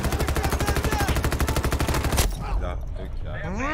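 Rapid automatic gunfire in the shooter game Battlefield 2042 rattles loudly and steadily for about two seconds, then cuts off, leaving quieter game ambience and a voice talking in the background.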